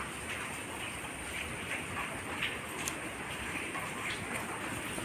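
Light rain falls steadily outdoors around a home, a soft, even patter with scattered faint drips continuing without pause.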